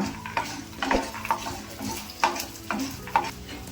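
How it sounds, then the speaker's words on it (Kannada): Urad dal, chana dal and peanuts crackle and sizzle in hot oil as a spoon stirs them, soft steady frying beneath a handful of sharp scraping knocks, close and without talk. "ಇದನ್ನೆಲ್ಲ ಒಂದು ಸ್ವಲ್ಪ ಎಣ್ಣೆಲೆ ಫ್ರೈ ಮಾಡ್ಕೊಬಿಡೋಣ"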